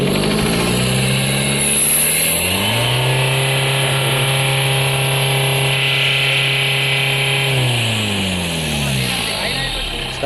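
A Tata Safari Storme with its 2.2 diesel engine revs up from idle, holds a steady high drone for several seconds, then drops back, loud and close, with voices talking over it.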